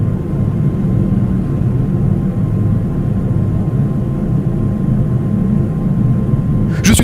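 Steady low engine drone of a cartoon airplane in flight, a loud continuous cabin rumble with no breaks, a brief clatter right at the end.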